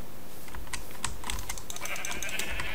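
Sheep bleating in Minecraft, short bleats scattered among rapid keyboard typing and clicking, with no talk during the clip.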